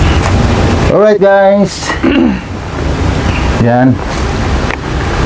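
Strong wind blows steadily across the mic at a beach in Bani, La Union around dusk, a constant roar of broadband rush beneath someone talking.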